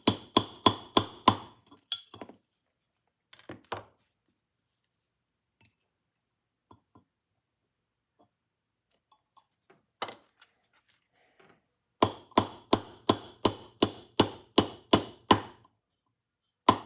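Brass punch struck with a hammer against the speed control yoke of an Amberola A-1 phonograph, sharp metallic taps in quick rhythmic bursts at the start and end, with a few scattered knocks between.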